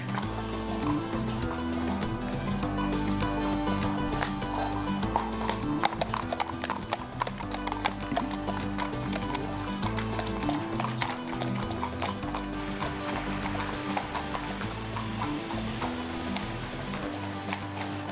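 Horse hooves clip-clopping at a steady rhythm during a ride around Colmar, heard continuously under a full layer of background music, with a possible whinny.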